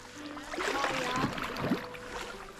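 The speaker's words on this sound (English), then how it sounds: "Well, you're paddling." A boat is paddled along a disused waterway in freezing weather, with soft splashes and watery swishes from the strokes close by, plus some outdoor wind noise.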